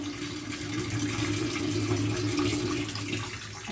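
Water runs steadily from a kitchen tap into a sink during dishwashing, a continuous close splashing hiss with no talking over it.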